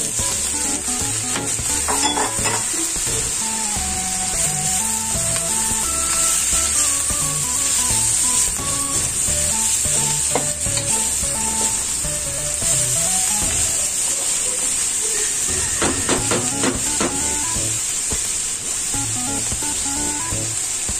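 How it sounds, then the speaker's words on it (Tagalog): Beans frying in a pan for pansit bihon with dried mushrooms give a loud, steady sizzle and hiss throughout, along with scraping stirs and some background music. "Tapos yung beans, lagyan na natin yung beans."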